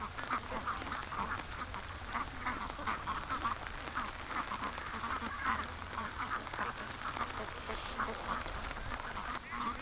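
A flock of ducks keeps up continuous, overlapping quacking through steady rainfall, the calls near and busy from start to finish.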